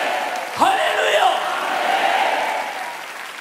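A church congregation claps during a Sunday worship service, a broad wash of applause with a voice calling out over it near the start.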